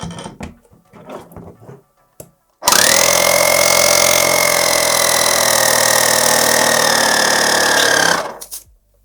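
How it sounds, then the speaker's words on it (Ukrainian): A 100 W Parkcity C1859-1 portable car air compressor switches on abruptly and runs with a loud, close, steady buzzing drone for about five seconds, then shuts off automatically; faint handling noises come before it. "доволі непоганий потік повітря видає компресор"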